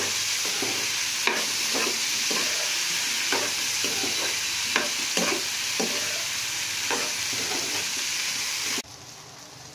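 Brinjals and onions fry in a pan with a steady sizzle, broken by repeated scraping stirs, until the sizzling suddenly drops away near the end.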